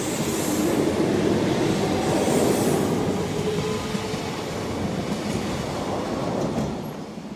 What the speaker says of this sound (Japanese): 平日朝の橿原神宮前駅特急において、この当時はまだ旧塗装で走っていた1万6400系エースとの10連運転が実現した